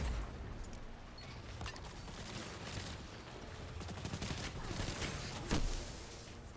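Rapid video-game SMG fire from an Ikelos submachine gun rattles in dense bursts over a busy battle background, steady throughout with one sharper, louder spike near the end.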